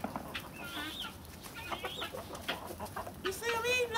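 Chickens clucking and calling nearby, with short rising squawks scattered over a quiet background and a louder burst of clucks near the end.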